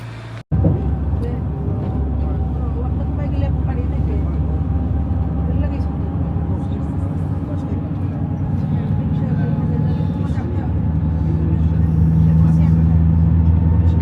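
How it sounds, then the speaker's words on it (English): Bus station ambience with engines idling and traffic rumbling steadily around, a dense low drone that swells slightly toward the end, with faint background voices under it. "I'm at the bus station now, just got my ticket, so let's try and find our bus"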